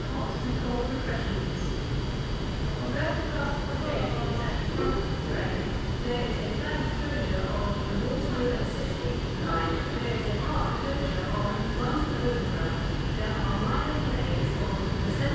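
Pair of Class 730 trains arriving into Coventry station on test, a low rumbling approach with intermittent squeals and clatter, while a person talks over it.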